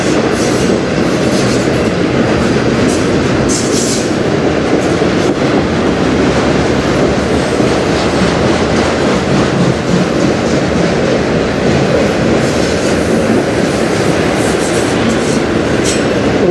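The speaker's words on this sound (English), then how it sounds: "empty truck frame cars go by" Empty CN freight train frame cars roll past close by in Sarnia, Ontario, in a continuous loud clatter of wheels on rails, with faint squeals, and no one speaking.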